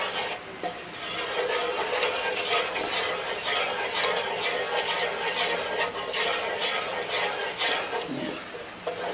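A spoon scraping and stirring a thickening sauce in a pan, steady rasping strokes repeating at a fast, even rhythm close up, without talk.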